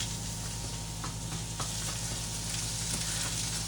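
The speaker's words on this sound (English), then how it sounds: "you can see how fast it cooked that egg" An egg fries on low heat in a thin pan over a Campingaz Twister 270 backpack stove, a steady close sizzle with faint crackles and no talk.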